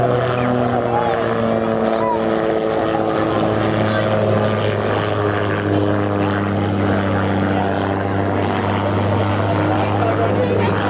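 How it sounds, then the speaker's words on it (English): An autogyro with a 115-horsepower Rotax 914 engine and freewheeling rotor blades flies at an air show. It gives a steady, loud propeller-engine drone with strong low harmonics that holds for about eleven seconds, with talk underneath. "Powering the aircraft is a Rotax 914 engine, which gives it 115 horsepower."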